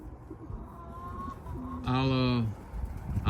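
Racing pigeons coo in a loft, a few soft throaty calls followed by one louder, drawn-out coo up close, with background rustling and a low hum.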